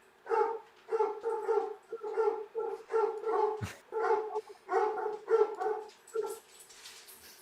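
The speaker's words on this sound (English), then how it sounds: "you can hear the dog through both of our mics" A dog barks repeatedly in quick bursts, loud and close, with short pauses between runs of barks and a sharp knock partway through; no talking.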